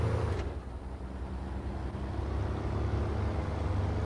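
A truck engine in the SnowRunner video game, a continuous low droning rumble with a reedy, harmonica-like tonal quality, steady and fairly loud with no talk.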